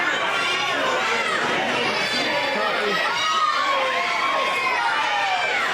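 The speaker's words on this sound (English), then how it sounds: "Quest getting the crowd riled up." An indoor wrestling event crowd cheers and chatters continuously, a dense roar of voices with scattered shouts and whistles rising in waves at a steady, fairly loud level.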